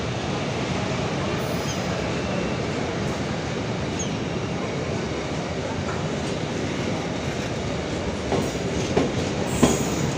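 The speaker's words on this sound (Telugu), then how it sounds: "మన విశాఖపట్నం నుండి భువనేశ్వర్ వెళ్ళే లైన్లోన VAG 7 లోకోమోటివ్తో ఒక గూడ్స్ ట్రైన్ అనేది క్రాస్ అవుతుంది" A goods container train hauled by a WAG 7 locomotive rolls past a station platform on the Visakhapatnam–Bhubaneswar line, a loud, steady rumble of wheels and wagons throughout with a few sharper clanks near the end.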